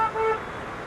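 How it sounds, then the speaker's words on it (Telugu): A short car horn toot sounds amid heavy road traffic during a bike taxi ride, one brief honk over a steady engine and traffic rumble. "మామూలు ట్రాఫిక్ లేదు బాబాయ్"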